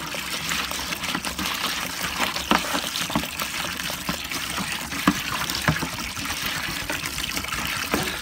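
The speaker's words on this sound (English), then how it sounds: "And now we're adding some water." Water pours steadily into a fish brine for smoking black sucker, a continuous trickling and splashing stream with a few louder sloshes, moderately close and with no talking.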